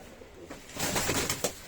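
A pet pigeon, about five or six years old, cooing softly up close, with a few low throaty coos and faint rustling over quiet room noise.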